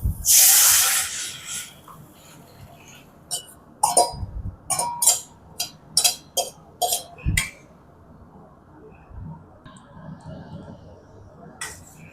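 Onion rasam is poured into a hot sautéed tempering and hisses in a loud burst at first, then gives way to quieter clinks and scraping taps of a utensil against the pot.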